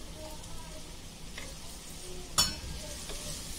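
Onions and chilies frying in a pan for a Konkani toor dal dish, a soft steady sizzle with one sharper scrape of stirring partway through, close by with no talk.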